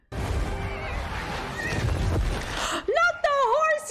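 A horse whinnies loudly in a Lord of the Rings battle scene, its rising and falling neigh coming near the end after a dense stretch of shouting and clashing, with a voice talking over parts of it.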